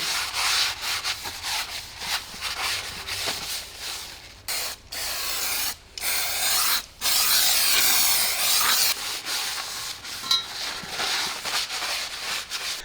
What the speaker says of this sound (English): And then we clean it all with brake cleaner again. And of course you need to clean the drum.